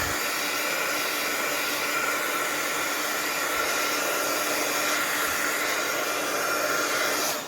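A hair dryer runs steadily and loud throughout, drying paint on a handmade craft cauldron, its constant airy roar unbroken and with no voices.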